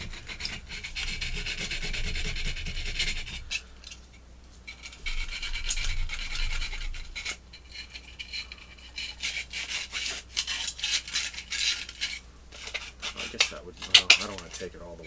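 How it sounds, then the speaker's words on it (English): Sanding cloth rubbed by hand over a 3D-printed PLA plastic part, a large Stay Puft Marshmallow Man model, giving steady raspy scraping strokes that come in bursts with brief pauses, fairly close and alone. "I'm just taking some sanding cloth here, and I'm gonna just kind of sand that down."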